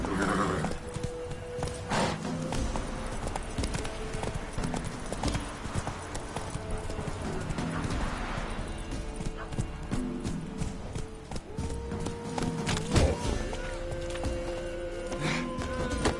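Steady horse hooves clip-clop throughout, with occasional neighs and whinnies over a busy, layered backdrop of music and ambience.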